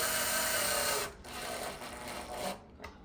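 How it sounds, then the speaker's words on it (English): A power drill drives screws into wood to start them while installing a Hyper Tough digital deadbolt. A steady, close, loud whirring grind runs for about a second, then continues more unevenly with short bursts before stopping. "I'm going to get them started with the drill."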